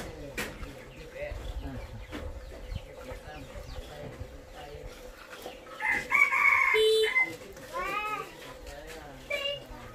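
Chickens cluck around a rural home while a rooster crows once midway, loud and fairly close, with people talking nearby and a cat-like meow mixed in.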